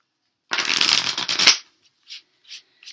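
A quick burst of tarot cards being riffled and shuffled for about a second, followed by a few soft taps as the deck settles.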